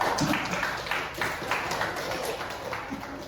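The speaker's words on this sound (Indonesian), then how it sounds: "sekarang kita tepuk tangan dulu semua" A class of students applauds together at the close of a lesson, a steady wash of many hands clapping at even loudness throughout.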